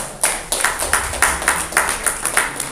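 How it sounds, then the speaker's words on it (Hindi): An audience at a journalism event held by a national media foundation claps loudly in a steady rhythm of sharp, evenly spaced beats, with no talk over it. "उसके लिए जोरों की ताली बजाएं आप।"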